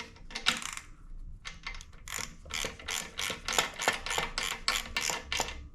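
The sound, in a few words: tightening bolts on a Champion log splitter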